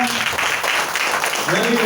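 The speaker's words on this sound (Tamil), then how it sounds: "நல்லா கவனிக்கிறவங்க மட்டும் நல்லா கைத்தட்டுங்க, ஜோரா கைத்தட்டுங்க" A church congregation at a Catholic parish in Chennai claps steadily, a busy wash of hand claps filling the whole short stretch with a voice faintly underneath.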